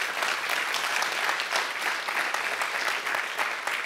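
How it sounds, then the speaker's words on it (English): A plenary session audience gives a warm round of applause, loud and close, with many hands clapping in a dense, steady burst that holds throughout. "please give a warm hand of applause to him"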